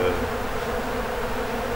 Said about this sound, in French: les abeilles